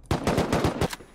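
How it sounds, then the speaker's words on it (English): A short, rapid volley of roughly seven sharp shots from an auto turret in the video game Rust, evenly spaced and close, with no voices. "everywhere he's landing, I just place an auto turret"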